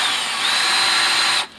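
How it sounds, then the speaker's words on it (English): A power drill bores a hole under a kitchen sink during a plumbing job, a steady high whine held for over a second before it stops abruptly, close and loud. "So just drill an extra hole here"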